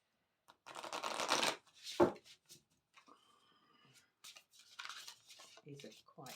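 Large tarot cards are riffled and shuffled in quick bursts, close and crisp, with a few soft taps and a voice speaking briefly.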